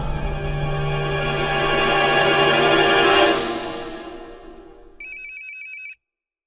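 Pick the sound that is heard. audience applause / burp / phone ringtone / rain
phone ringtone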